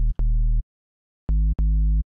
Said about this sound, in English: What we're aiming for is to create kind of a square waveform.